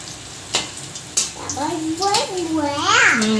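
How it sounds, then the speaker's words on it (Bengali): Water lily flower fritters fry in hot oil with a steady sizzle, while a voice babbles and chatters close by over the frying. "আমি বড়া ভাজা করছি"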